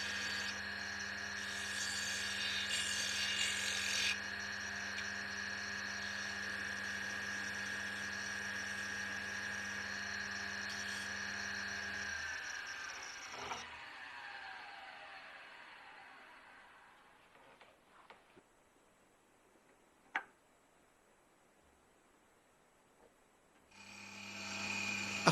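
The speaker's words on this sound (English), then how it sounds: "the face is being trued up with a 1/4 inch round skew" Wood lathe spinning steadily while the face of a boxwood and cocobolo blank is trued with a quarter-inch round skew chisel, a loud sustained whir and scraping hum that cuts off, leaving quiet taps and a sharp knock.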